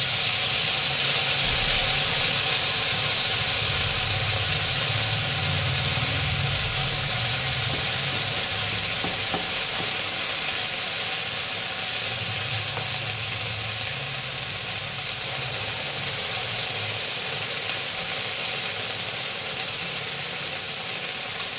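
Potato tikki frying in ghee on a hot tawa gives a continuous, loud, even sizzling hiss that holds steady throughout with no voices.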